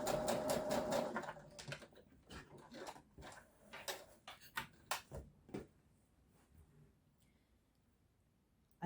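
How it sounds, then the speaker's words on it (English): A sewing machine running a row of gathering stitches on a Liberty London tiered dress, with short bursts of rapid whirring stitching and clicks that fade into quiet. "So the second row of gathering stitches goes in, keeping the end tails out of the way."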